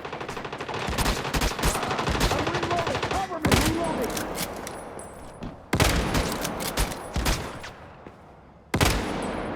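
Automatic gunfire in the survival shooter video game Once Human comes as dense, rapid bursts, loud and close, broken by a few short pauses between volleys.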